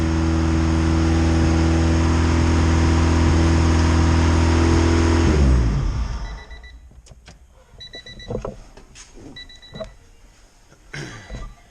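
A car engine runs after a Walbro 450 fuel pump install, a loud steady idle hum that cuts off around halfway, followed by quieter clicks and scattered handling sounds.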